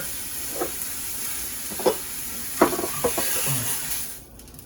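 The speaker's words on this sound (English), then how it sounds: "Let's put some butter in there." Butter sizzles and hisses in a hot frying pan ready for steak, a close crackling fry with a few louder spits and bursts before it suddenly cuts off, with no voices.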